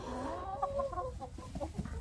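Hens cluck and murmur nearby in a small enclosed space, a few overlapping throaty calls and soft chatters with no talking.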